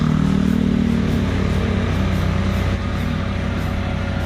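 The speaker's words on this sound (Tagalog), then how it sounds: "sa ngayon po mga motor lang nakakadaan dito" Motorcycle engines on a storm-damaged road strewn with downed wires and poles after a typhoon, a steady loud rumbling drone that stays close and continuous throughout, with no talk.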